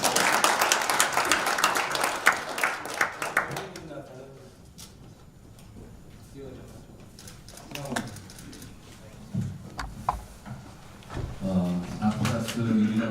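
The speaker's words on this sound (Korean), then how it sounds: "박수 한번 치켜야겠습니다." Audience clapping at a New Conservative Party founding committee vision meeting, a dense burst of applause for the first few seconds that fades into scattered claps, with voices talking over the room afterward.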